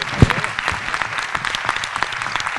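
Audience applause at an evening ceremony, a burst of clapping with one loud clap near the start and then steady, dense clapping throughout.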